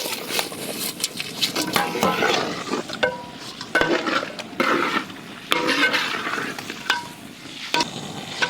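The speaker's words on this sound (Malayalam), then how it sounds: "നമുക്കിനി അതിലേക്ക് ചിക്കൻ നമുക്ക് ഇട്ട് കൊടുക്കാം" Chicken pieces tossed into a pan of spices with turmeric, then stirred and scraped repeatedly with clinks of a utensil against the metal over a busy sizzle, close and fairly loud throughout.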